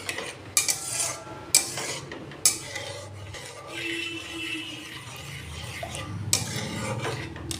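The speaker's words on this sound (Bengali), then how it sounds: "চিনিটা গলে গেছে, এটাকে আমি আর একটু লাল করে করে নেব, ভেজে নেব" Melted sugar cooks toward a darker caramel in a pan while a utensil stirs it, giving rasping scrapes and a few sharp clinks against the metal over a quiet background.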